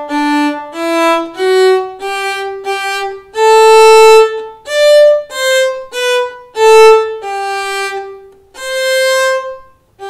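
Violin playing the closing line of the Christmas carol Good King Wenceslas, a dozen clear bowed notes in a steady hymn-like rhythm, close and loud, solo with no talk.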